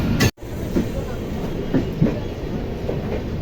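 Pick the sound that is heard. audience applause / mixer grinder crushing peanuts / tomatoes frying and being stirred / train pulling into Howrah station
train pulling into Howrah station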